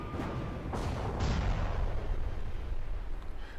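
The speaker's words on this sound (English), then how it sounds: "Let's do a doom cannon on him." A doom cannon fires in the space strategy game Halcyon 6: Starbase Commander, giving a heavy, booming blast that swells into a sustained rumbling roar and fills the whole moment without any talk.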